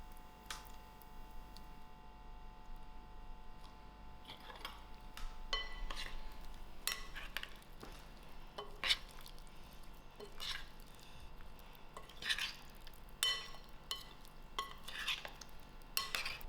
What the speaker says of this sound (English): to this I have a cup of oil that I'm going to add in and give it a good mix